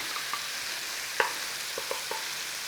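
Garlic sizzles in a frying pan with a soft, steady hiss, broken by a few light taps and stirs of a utensil against the pan, close and quiet with no speech.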